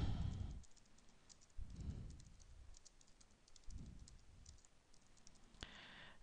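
Someone typing on a computer keyboard, a quiet run of quick key clicks and taps over a low background rumble, with a sharper click near the end.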